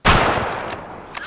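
A single hunting rifle shot in the hunting game Way of the Hunter cracks loud and close, then rolls away in a fading echo that lasts about a second.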